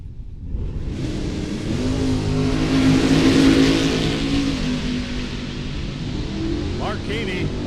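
Drag race cars, including a Camaro, at the World Super Pro Challenge, with engines rising into a loud roar that peaks mid-clip, then trails off as a voice talks over it.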